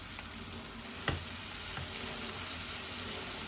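Dried kachki fish and shrimp fry in a pan with a steady, close sizzle. A single soft knock comes near the start, and no one speaks.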